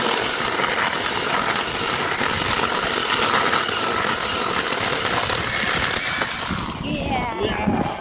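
A Livrea 12-inch (35 cm) cordless electric chainsaw drones loudly and harshly without a break, grinding through wood, then its pitch shifts near the end as the cut finishes.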